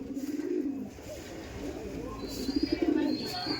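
Kala sabuj pigeons, males and females with beji-shaped heads, coo inside a loft at Barasat, in two bursts of repeated soft throaty pulses, fairly close, with a little background noise between them.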